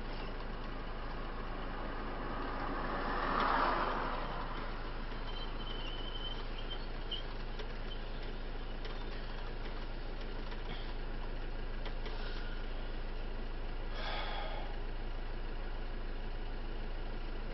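A car engine idles in a steady low rumble, heard from inside the parked vehicle, with a faint scrape or knock now and then and no talking.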